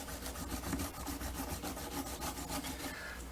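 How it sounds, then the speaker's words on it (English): A single action revolver cylinder face scrubbed clean after heavy firing, giving a steady, close rhythmic rubbing and rasping of quick back-and-forth strokes that continues without pause and without speech. "I'm going to scrub the front of this cylinder"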